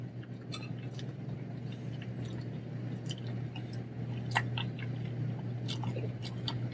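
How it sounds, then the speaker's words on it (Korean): Close, quiet chewing of grapefruit, with wet squishy bites and small smacking sounds scattered over a steady low background hum. "그리고 자몽 먹어볼게요."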